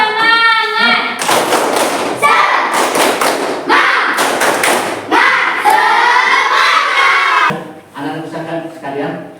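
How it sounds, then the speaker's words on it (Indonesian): Schoolchildren in a classroom clap their hands together in several loud, bursty rounds, mixed with cheering voices and a teacher speaking between the bursts. "Ayo, tepuk tangan."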